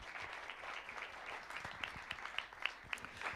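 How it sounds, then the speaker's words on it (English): Applause at a global CEO summit, a steady wash of clapping from a fairly faint audience, with a few sharper individual claps standing out toward the end. "A round of applause, everybody, for the good doctor."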